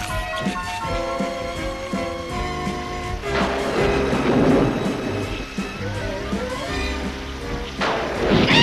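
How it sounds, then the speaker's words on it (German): A thunderstorm with rain in a Smurfs cartoon scene at night, rumbling thunder rolls and crashes over steady rainfall, mixed with a dramatic orchestral score, loud and full. "was für ein herrlicher Sturm"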